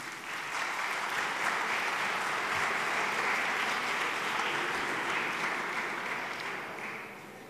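An audience at a Paris city hall fundraising dinner applauds the city's first deputy mayor, steady moderate clapping that holds level throughout and then thins slightly toward the end.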